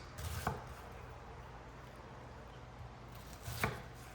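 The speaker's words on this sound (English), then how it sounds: "I'm gonna make nice thin dices" A knife dicing onion for pico de gallo on a cutting board, two distinct chopping knocks several seconds apart, close and fairly quiet against a faint steady hum.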